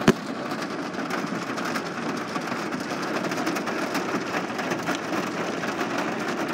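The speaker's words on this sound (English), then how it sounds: "I'm getting like tiny bits of hail." Tiny hail and rain fall steadily during a supercell thunderstorm at West Head, forming a dense, continuous hiss and patter of many small impacts with no talking.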